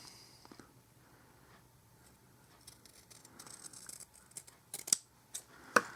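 Scissors snipping organic cotton for a vape wick on a rebuildable atomizer: quiet handling, then a few crisp, close snips near the end, alone in a quiet room.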